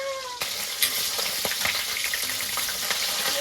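Fish sizzling and spitting in hot oil in a pan, a steady crackling hiss with sharp pops scattered throughout, close by.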